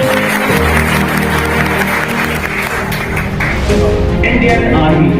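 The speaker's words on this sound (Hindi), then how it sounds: "एक बार जोरदार तालियां" A seminar audience bursts into sustained applause, a dense, loud wash of clapping that runs throughout while a voice speaks over it.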